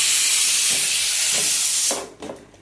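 A pressure cooker vents a steady, loud hiss of steam after its whistles, the gas just turned off; the rush cuts back near the end, leaving a few softer bursts.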